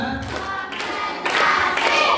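Children clap together in steady rhythm at an elementary school Isra' Mi'raj commemoration, a dense continuous patter of many hands that swells louder partway through.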